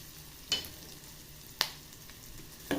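Chopped onion and three cloves of garlic sauté in a little oil over medium heat for a village-style spicy tomato chutney, a low steady sizzle broken by a few sharp stirring scrapes.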